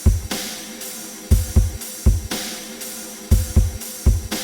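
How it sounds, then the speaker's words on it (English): A raw, unprocessed drum loop made in FL Studio plays alone, punchy kicks and snappy hits with hi-hat wash repeating in a steady, mid-tempo groove. "the drums is actually a loop that I made some time ago"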